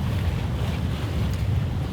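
A sailboat under sail in roughly 12 to 13 knots of breeze, bound for Gallipoli on the Italian coast, gives a continuous roar of wind and rushing water. The rumble is close and loud, with no voices.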